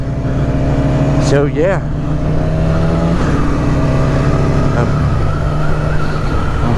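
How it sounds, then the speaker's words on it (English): A 2001 Aprilia 1000 motorcycle fitted with new Aprilia Performance exhaust pipes, engine rumbling and revving with rising and falling pitch as it passes, loud and near, with someone talking over it. "he just put some new pipes on the bike, and it sounds pretty good"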